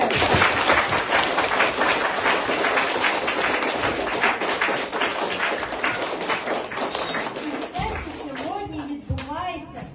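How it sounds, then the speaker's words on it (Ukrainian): Applause from pupils and guests at a school patriotic event in a Ukrainian gymnasium, loud dense clapping sustained for about eight seconds before thinning, with voices rising near the end. "Оплески!"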